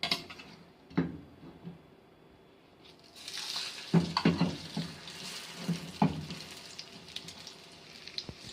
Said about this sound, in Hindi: एक टोस्ट हमारा फ्राई हो चुका है, एक साइड से फ्राई हो चुका है।